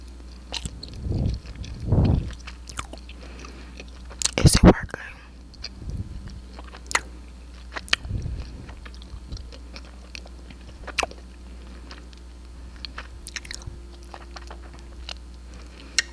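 Candy chewed close to a cheap podcast microphone, with a few loud wet bites and crunches early, then softer sporadic chewing clicks over a steady low hum.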